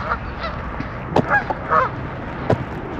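Barnacle geese honk in scattered calls over a constant murmur of many birds, a busy flock at moderate distance.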